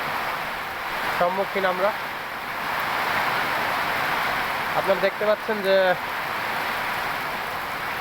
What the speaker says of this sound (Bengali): প্রচুর বৃষ্টি হচ্ছে, প্রচুর বাতাস।